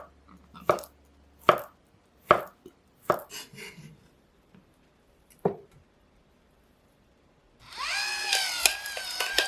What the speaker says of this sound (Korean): 반으로 자르고 반달 모양으로 썰어 팬에 넣으세요.